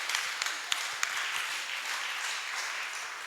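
Steady applause from a church congregation during a Swahili sermon, a dense wash of many hands clapping at moderate distance, with a few sharper individual claps standing out, continuing evenly throughout.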